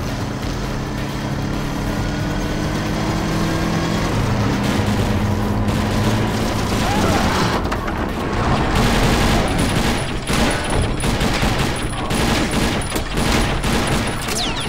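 Bursts of gunfire from the shooter game TimeShift crackle in rapid, irregular volleys over a constant rumbling engine-like drone, growing denser and sharper in the second half.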